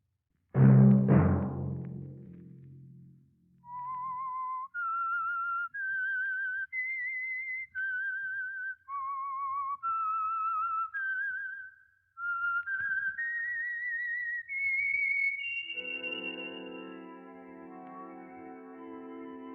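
A single loud chord opens, then a person whistles a slow, clear melody of distinct sustained notes, ending over soft orchestral tones, as the theme of The Whistler old-time radio drama.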